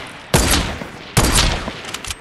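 Two rapid bursts of semi-automatic gunfire in the video game Fortnite, each a sharp, loud volley of several quick shots close up, separated by a short pause, with a few scattered pops trailing after the second burst.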